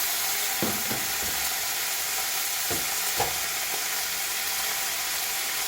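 Mutton cooking in a pan gives a steady, even sizzle and hiss close by, with a few faint clinks and stirring scrapes over it and no voices.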